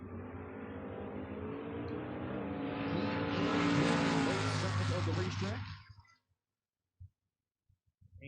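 Drag racing at a door wars event: a Chevrolet Nova and a 1987 Mustang roar loudly in a sustained rising engine howl for about six seconds, then cut off abruptly to near silence with a few faint knocks.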